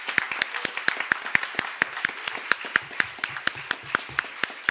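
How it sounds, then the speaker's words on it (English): An audience at a state poetry recitation final applauds teachers and families, with sharp individual claps standing out close by over a fuller round of clapping that continues evenly throughout. "let's just give them one last round of applause"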